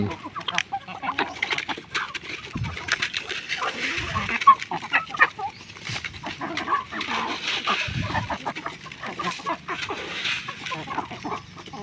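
Chickens kept at home clucking continuously nearby, a busy overlapping chatter of hens with occasional louder calls, set against a soft, damp outdoor background.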